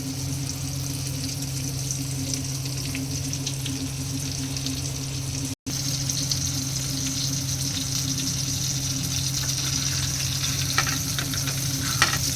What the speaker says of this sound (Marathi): अलगद हलक्या हाताने परतून घ्यायचं आहे तेलात.